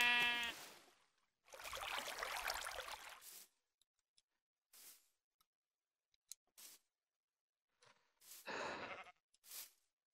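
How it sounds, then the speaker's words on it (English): A sheep in Minecraft VR gives a few separate bleats, one near the start and a longer wavering one later. Brief game clicks and taps sit between them against an otherwise quiet background. "Surprise sheep."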